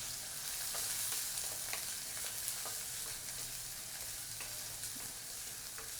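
Crushed onion, green chilli and garlic fry steadily in hot oil for a Vanjaram fish curry, a soft continuous sizzle and crackle throughout with no talk.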